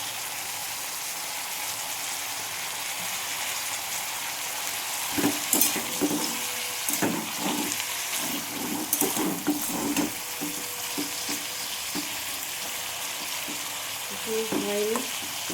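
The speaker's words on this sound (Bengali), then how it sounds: "আমার বিট ভাজাটা হয়ে এসছে।" Beetroot fries in a pan with a steady, even sizzle, broken midway by bursts of scraping and clinking as a spoon stirs it.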